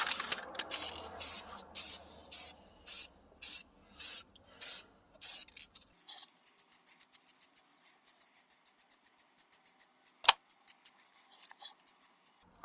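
A spray can paints a brake caliper and hub, first in about ten short, loud hissing bursts in a steady rhythm, then in fainter, quicker light spurts with one sharp click near the end.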